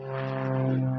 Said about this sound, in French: c'est putain d'avion qui fait autant de bordel